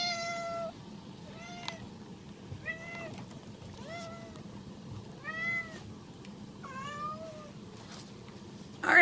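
A house cat meows repeatedly, about eight short rising and falling calls spaced a second or so apart, fairly close, over a low steady background hum with no talking.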